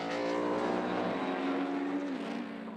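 A saloon or sports car roars past on a racing circuit during a championship race, its engine note loud and sustained, then rising and fading slightly as it moves away.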